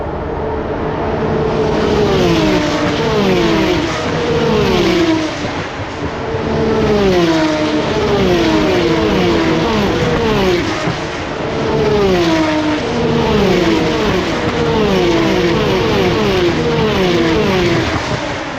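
Race cars lap the Imola circuit on a Grand Prix weekend, their loud engine notes rising and falling in repeated overlapping sweeps as several cars scream past one after another, with no talking.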